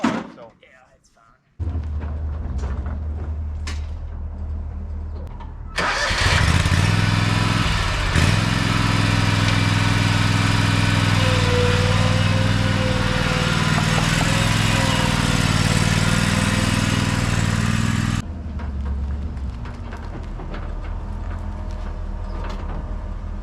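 A tiny old Japanese tractor's small engine sputters to life after a few knocks and runs loud and steady with a rough, chugging drone, then cuts off abruptly.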